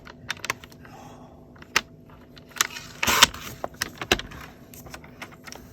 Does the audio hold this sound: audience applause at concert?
no